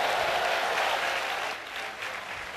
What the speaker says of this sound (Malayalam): ഒരു ആമേൻ പറഞ്ഞ് കൈയടിച്ച് ദൈവത്തെ സ്തുതിക്കട്ടെ